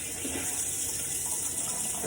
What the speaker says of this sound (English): I do the rinsing out of this t-shirt over here in this sink